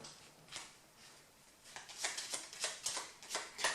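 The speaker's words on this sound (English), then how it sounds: "each player takes their deck, shuffles it, places it upside down in front of them" A player's deck for the board game Challengers! is shuffled quietly, with soft swishing and a quickening run of rhythmic riffles building toward the end.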